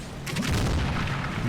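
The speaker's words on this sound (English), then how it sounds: "Some secondary explosions there." Secondary explosions in the WWII Normandy war game Combat Mission: Battle for Normandy: a deep, rolling boom that swells and rumbles for over a second, with no voices.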